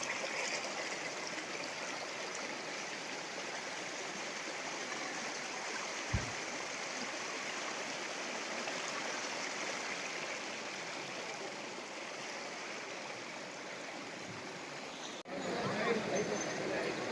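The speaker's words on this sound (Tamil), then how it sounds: "அங்கங்கே தண்ணி ஓடுது" A river stream flowing over rocks beside the Sabarimala forest pilgrimage path, a steady broad rushing wash of water close by, with one brief knock and a short rustle near the end.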